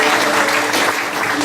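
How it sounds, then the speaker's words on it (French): Loud, close congregation applause during a church service, dense continuous clapping that fills the whole moment with a faint steady tone behind it. "nous méritons de applaudir"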